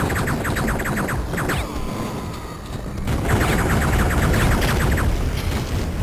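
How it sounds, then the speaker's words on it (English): Dense, continuous barrage of explosions and blasts from the Duke Nukem 3D Shrapnel City level, loud and layered, with rapid crackling bursts that briefly thin out midway and then surge back even heavier. "Whoa, that's a lot of explosions."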